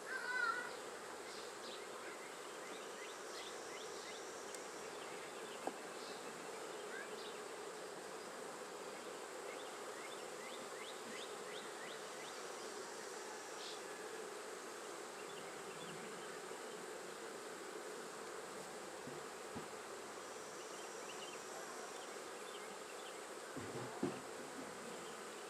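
A honey bee swarm hums continuously around frames of acorn plastic foundation, a dense, steady buzz that holds evenly throughout, with a couple of faint knocks.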